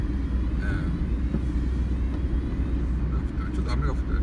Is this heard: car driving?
yes